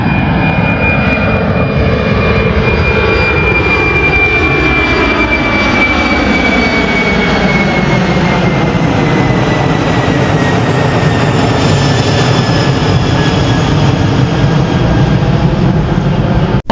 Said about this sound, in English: that, guys, was the early morning UPS 747-400 freighter bound for Ontario, California